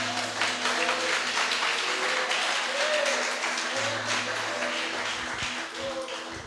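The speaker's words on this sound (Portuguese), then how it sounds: "Eu fico grato por essas palmas" Congregation in a church service applauding steadily throughout, a dense wash of clapping with a faint voice and low background hum underneath.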